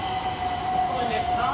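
Two Class 357 c2c electric multiple units, 357-204 and 357-038, pull into Stratford station as an eight-coach train, a steady rail rumble with a sustained tonal whine under faint background voices.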